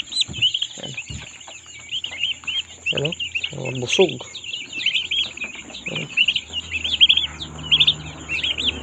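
Young turkeys and guinea fowl keets make dense, high peeping chirps that continue throughout, close by, while someone talks over them now and then.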